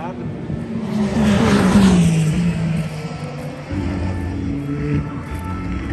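Porsche and Aston Martin race cars at the 24 Hours of Le Mans 2022, heard as a loud engine drone that swells, falls in pitch as a car passes, then settles to a steady roar beneath continuous commentary.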